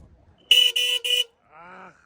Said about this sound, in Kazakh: Бир сигнал басыңчы, Жигулинин.